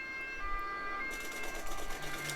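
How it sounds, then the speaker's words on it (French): A wailing electronic ambulance siren in a video game sweeps up and down over a steady hum of engine noise, loud and close, with no talking. "Ah, ambulance."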